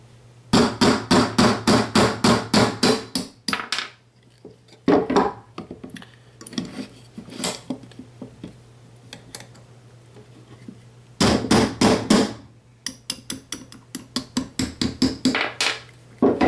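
A hammer strikes a medium punch to drive out the trigger pins of a Mossberg 702 rifle. The sharp metallic taps come close and loud in quick rhythmic bursts, separated by short pauses.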